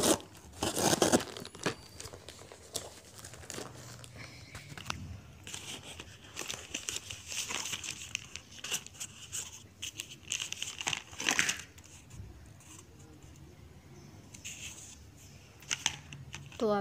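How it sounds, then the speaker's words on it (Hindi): Plastic courier bag packaging being torn and crinkled open, close and fairly quiet, with irregular rustling bursts and sharp crackles throughout. "पहले सबसे ऊपर से कोरियर बैग्स में पैक था, और फिर सेकंड ऐसे छोटे से बॉक्स में पैक था"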